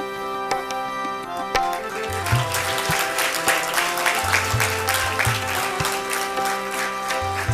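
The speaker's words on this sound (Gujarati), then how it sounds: "આપણે સૌ તાળીઓના નાદ વડે આ ક્ષણોને આવકારીએ" An audience at a school award ceremony breaks into sustained clapping, close and continuous, with instrumental music playing underneath.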